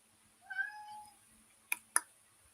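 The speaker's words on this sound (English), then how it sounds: "You guys hear my cat answer?" A house cat meows: one drawn-out, rising-and-falling meow, then two short sharp clicks a moment later, all close and fairly quiet against a near-silent room with no talking.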